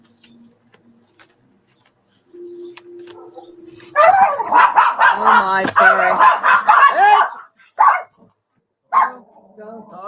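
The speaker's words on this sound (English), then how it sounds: "dog's barking outside" A dog barks repeatedly and loudly in bursts outdoors, with whimpers and yips mixed in, while someone talks over and between the barks.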